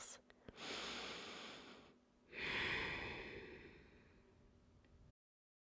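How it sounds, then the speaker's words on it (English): Slow audible yoga breathing during Ashtanga practice, two long breathy inhale-exhale cycles, close and soft, with a rushing airy quality and no talk. "At least 5 audible inhales and exhales."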